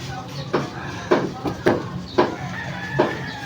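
Chickens at a market stall cluck in a series of short, fairly close bursts roughly every half second, over a steady background murmur.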